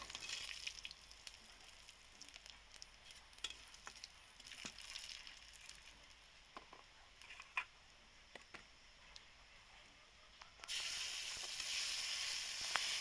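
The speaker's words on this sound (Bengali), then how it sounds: "আলু ভাজা তেলের মধ্যে আমি এখন ফোড়ন দিয়ে দিচ্ছি" Faint crackles and pops of cinnamon, panch phoron and bay leaf spluttering in hot oil, ending in a louder, steady sizzle.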